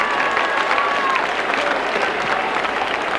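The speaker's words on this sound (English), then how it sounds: "You'll hear that from the cheers of the crowd." Rugby league crowd at a Halifax versus Leeds match in 1996 roaring and applauding after a successful goal kick, a dense sustained cheer with a commentator's voice faintly over it.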